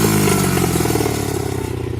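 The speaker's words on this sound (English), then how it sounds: "As you see, it's a cool little fast dirt bike. 70cc. Goes 50 miles per hour." A 70cc dirt bike engine revs loudly and close up, with a dense, buzzing mid-range drone and a rapid pulsing rhythm that eases slightly toward the end.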